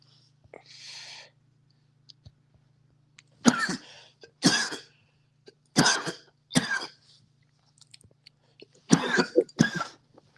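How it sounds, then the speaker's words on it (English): A series of sharp coughs, some in pairs, with pauses between them against a quiet background with a low steady hum. "My bad if y'all hearing me cough in the background."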